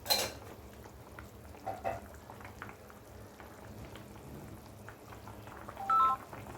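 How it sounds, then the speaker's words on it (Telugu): Fish pulusu being stirred in a pan, quiet intermittent scraping and faint bubbling, with a short sharp clatter at the start and a brief tonal beeping near the end. "ఇదంతా ఒకసారి ఇలా కలుపుకుందామండి."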